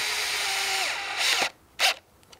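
A power drill drives a 2.5-inch screw into a wooden sawhorse leg, a close whirring motor whose pitch sags under load, then two short, loud bursts as the screw seats, followed by faint clicks.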